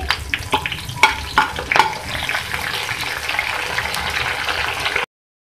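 Green and red chilies, cumin seeds and curry leaves hit hot oil for a besan kadhi tempering, giving sharp crackles and pops at first, then a steady loud sizzle that cuts off abruptly.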